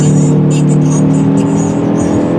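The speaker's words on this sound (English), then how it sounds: "Oh yeah, that's really quick acceleration actually." A 2017 Honda Civic with a turbocharged engine accelerating hard up an on-ramp at night, heard from inside the cabin as a loud, steady engine drone and road rumble with no talk.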